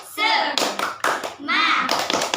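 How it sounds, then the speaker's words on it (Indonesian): A class of children claps and chants together in a rhythmic pattern, bursts of clapping alternating with their voices, close and loud. "Tepuk semangat."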